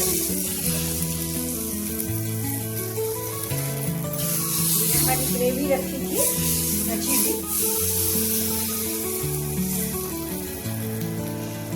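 Hot oil tempering with cloves, cardamom and cinnamon sizzles and crackles as it is poured over food, with a person talking over it.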